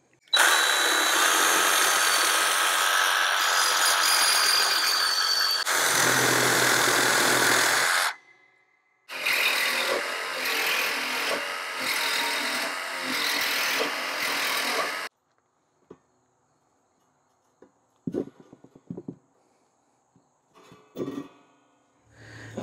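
A power tool cuts the corners off a steel mesh brush guard for a Kubota B2601 tractor, loud harsh grinding in two long bursts separated by a short pause, then scattered clanks and knocks of metal being handled.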